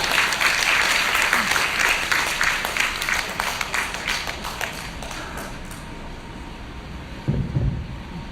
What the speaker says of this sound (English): So, let's clap our hands and call University Professor Henry H. Abad.